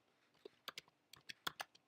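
Quiet typing on a computer keyboard, a short run of about a dozen light, irregular key clicks, close and alone.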